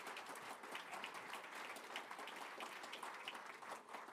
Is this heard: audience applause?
yes